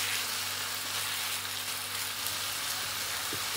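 Food seasoned with black pepper cooking in a pan, a dense, even hiss of sizzling oil that holds steady throughout with a faint low hum underneath, close, no voices.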